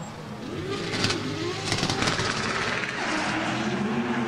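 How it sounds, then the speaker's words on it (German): Three drift cars run together at a Falken drift show at the Nürburgring, their engines droning and revving steadily at moderate distance amid crowd and track ambience, with no talking. "Drei Autos schicken sie runter."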